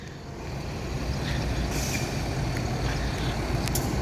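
A heavy tronton truck rumbles close by with a loud, continuous low engine drone, while air brakes add brief hissing bursts over it.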